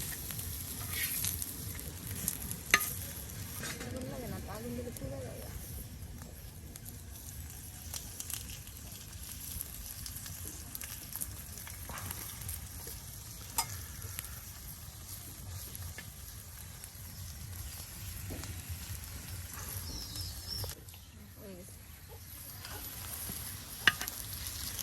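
Aloo chop, the Bengali potato chops, frying in hot oil, a faint continuous sizzle with occasional light pops and stirring clinks going on throughout.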